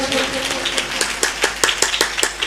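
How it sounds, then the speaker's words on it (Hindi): Congregation at a church sermon clapping loudly for God, a fast run of sharp, evenly spaced claps carrying on over the whole stretch, with a faint musical tone underneath at the start. "क्या हम जोर से परमेश्वर के लिए ताली बजा सकते हैं?"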